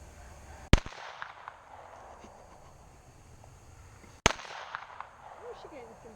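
Two sharp pistol shots from a Glock 43 and Glock 19 fired by a first-time shooter at an outdoor range, spaced a few seconds apart, with faint background noise between them.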